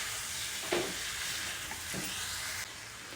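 Bottle gourd pieces tossed with chili powder and salt in a hot pan, with a continuous hissing sizzle and a couple of scraping stir strokes standing out.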